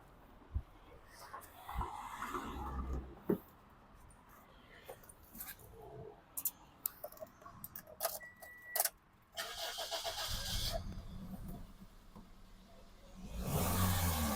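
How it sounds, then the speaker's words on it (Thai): A 2008 Toyota Altis 1.6G cranks and fires up, with some mechanical clatter nearby, then settles into a quiet idle broken by a couple of short throttle blips, the last one louder and sustained. "สตาร์ทที่จะติดเลยนะครับผมเร่งดีนะครับผม"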